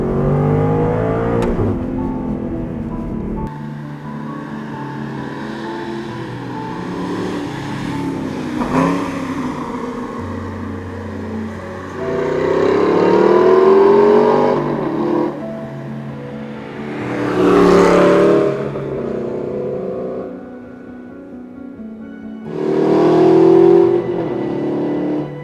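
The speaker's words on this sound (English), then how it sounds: "the hills are alive with the sound of a V8 engine" A V8 Aston Martin Vantage S accelerates repeatedly on a winding mountain road, loud and close, its engine note climbing through the gears in several surging bursts separated by brief shifts and lifts.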